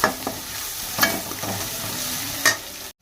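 Spiced egg rice masala being stirred and fried in a pan, with a steady sizzle broken by a few scraping strokes of the spoon, close and fairly loud, ending abruptly in silence.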